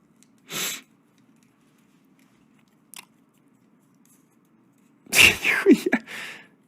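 A single short sneeze bursts out near the end, followed by a quick sniff and a small rustle, with a faint earlier puff of breath and otherwise near silence indoors.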